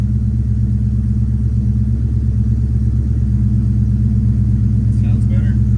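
Engine of a 1963 Ford Galaxie wagon idling steadily, a close, continuous low rumble with a faint rhythmic clatter, running alone without talk.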